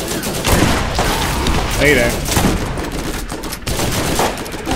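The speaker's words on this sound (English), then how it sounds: "This is why I love this shotgun." Shotgun blasts in the video game Borderlands, loud and punchy amid a dense, noisy game mix, with a voice shouting briefly among the shots.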